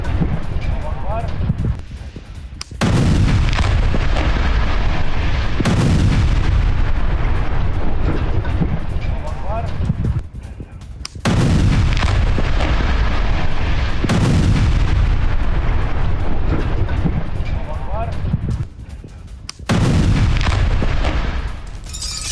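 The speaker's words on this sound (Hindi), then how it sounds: "हिजबुल्लाह के ठिकानों को धमाके से उड़ाया गया" Heavy booming blasts from Israeli airstrikes on Hezbollah sites in Lebanon erupt one after another, each a loud sustained roar that cuts off abruptly, repeating several times.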